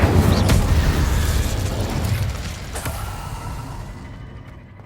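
Incendio fire spell from Hogwarts Legacy bursts out as a loud, roaring blast with a rumbling low end, then fades over a few seconds into silence.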